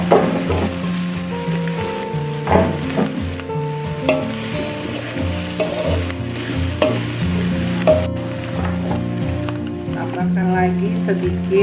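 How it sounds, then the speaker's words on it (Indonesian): Chicken skin frying in a pan, a steady sizzle running throughout with intermittent stirring scrapes and clinks, while background music with sustained tones plays over it. "Kita masak sampai matang si kulit ayamnya"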